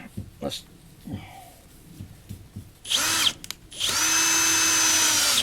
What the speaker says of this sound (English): As I'm screwing this plywood in